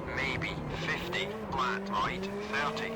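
Rally car engine in an old rally simulation game, the revving motor rising and falling with tire squeals and skidding noises, while a person talks over it.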